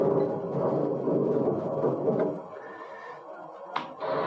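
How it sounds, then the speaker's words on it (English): A sampled thunder sound effect triggered on a sampler: a loud rolling rumble that swells for a couple of seconds, then fades, followed by a brief sharp click near the end. "Now thunder."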